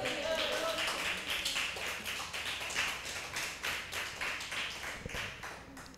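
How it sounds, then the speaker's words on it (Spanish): A church congregation applauds the Lord during a sermon on Romans: steady, dense clapping from many hands fills the room at a fairly even level throughout. "Den un aplauso al Señor."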